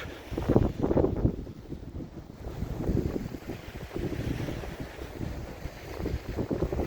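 Strong winter wind roars across the microphone outdoors by an ice-free bay, a loud, gusting rumble that surges and subsides unevenly throughout, with no speech.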